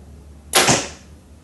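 A compound bow looses a 450 grain arrow in one sharp release, a loud crack followed by a brief fading twang and hiss, with no voices around it.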